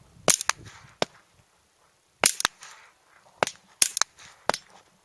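Rifle shots fired at a target using Federal ammunition, sharp loud cracks coming singly and in quick pairs with pauses between volleys, each dying off quickly.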